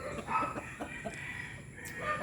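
Backyard hens on a rural Philippine farm cluck in short, repeated bursts at close range, with a few overlapping calls and a higher squawk near the end.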